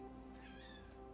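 A tiny kitten gives a single loud, drawn-out meow that rises and falls, heard close up over a steady hum of background noise.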